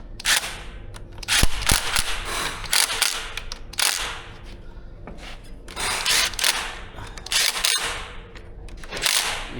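Tightening a bolt on the suspension of a Kove 450 Rally motorcycle: repeated metallic ratcheting clicks and clanks in close bursts, fairly loud, with no talking.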